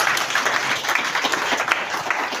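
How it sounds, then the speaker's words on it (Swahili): A church congregation at a prayer and deliverance service applauds, a continuous, fairly loud wash of many hands clapping with slight rises and falls and no break. "Pigeni makofi"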